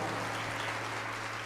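A short burst of dense, even applause from a church audience, a continuous crowd wash with a steady low hum underneath.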